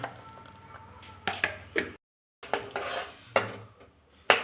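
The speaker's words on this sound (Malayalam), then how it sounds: "അരച്ച് വെച്ച മിക്സെല്ലാം ചേർത്ത് ഇളക്കുകയാണ്" A spoon scrapes and clinks against a metal pot while ground coconut paste is stirred into pulissery curry, with several sharp taps and scraping strokes and a brief silent gap.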